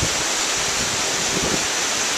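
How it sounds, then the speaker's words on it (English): The east branch of the Penobscot River in Katahdin Woods and Waters National Monument rushes past with a steady, broad hiss and roar, close and unbroken for a couple of seconds with no voices. "It's the east branch of the Penobscot River."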